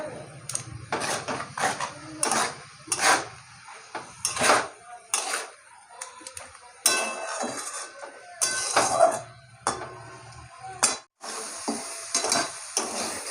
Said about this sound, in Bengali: এবার এই মশলাটাকে ভালো করে কষাবো